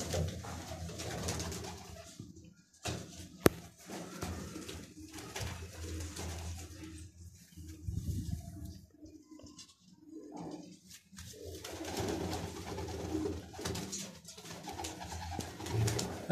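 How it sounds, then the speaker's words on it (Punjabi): Racing pigeons coo in a steady, low murmur that continues through the whole stretch, with a few soft shuffles and taps mixed in at close range. "ਇਹ ਸਾਡੇ ਬਾਜ਼ੀਆਂ ਵਾਲੇ ਕਬੂਤਰ ਨੇ"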